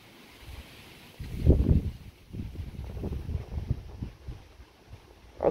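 Wind buffets a microphone on a boat, swelling into loud rumbling gusts that rise and fall irregularly over a faint steady hiss, with no voices.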